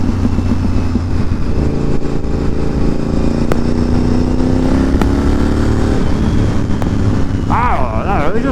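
A Honda VTR 1000 motorcycle rides along with a steady, loud engine drone that holds throughout and a brief rising rev near the end. Someone talks over the engine.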